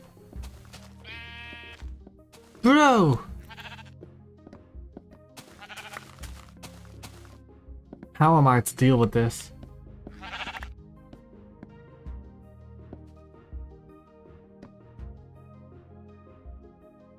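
Sheep in a video game bleating several times, loud wavering calls in two bursts against a soft musical background, with someone talking between them.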